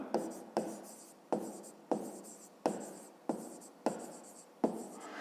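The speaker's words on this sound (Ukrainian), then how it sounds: "Записуємо." A pen writes on paper during a fifth-grade math exercise, making about eight short scratchy strokes in an even rhythm. Each stroke is close and fairly quiet, with brief pauses between.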